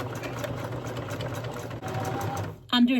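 A sewing machine stitches a seam on an American flag quilt top, a steady close whirring hum that briefly slows and stops near the end before a voice speaks.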